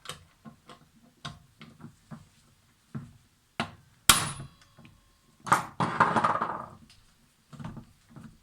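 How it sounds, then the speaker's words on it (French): Sharp hammer blows strike an impact screwdriver while loosening a fastener on an old, long-abandoned Stihl FS90AV brushcutter: a series of separate knocks, then two loud ringing metallic hits with a longer rattling tail, close and without speech. "on va prendre le tournevis à frapper"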